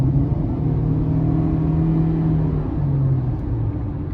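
A 2023 Honda CR-V EX with a 1.5-liter turbo four-cylinder and AWD accelerates, heard from inside the cabin as a steady low engine drone with a smooth rising hum and no talking.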